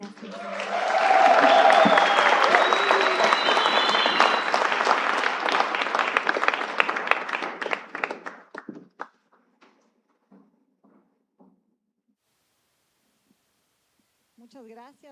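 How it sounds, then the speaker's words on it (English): An audience at a TEDx event in Amazônia applauds a speaker with loud, dense clapping that holds steady for about eight seconds. It then thins out to a few scattered claps before near silence. "A great applause to Brenda"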